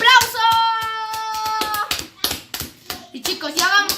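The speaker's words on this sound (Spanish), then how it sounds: "¡Aplauso!" Children clapping their hands, several quick bursts of close claps mixed with a child's sung tone and excited kid voices talking over them.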